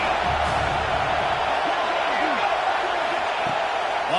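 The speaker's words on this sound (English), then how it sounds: "how nice is it to have the home crowd going absolutely bananas" Home crowd at a Wisconsin versus Iowa State football game, a broad steady roar of cheering and whooping filling the stadium, loud and sustained without a break.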